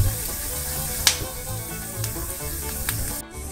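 Morel mushrooms fry in a pan, a steady close sizzle with a few sharp pops and crackles.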